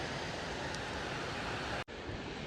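Waterfall on the Rupin Pass trek in Kinnaur, a steady broadband rush of falling water that fills the clip, with a brief dropout near the end.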